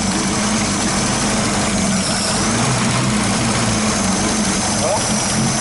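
Chevrolet Opala car engine with a carburetor idling without acceleration, a loud steady close-up rumble throughout, with someone talking over it.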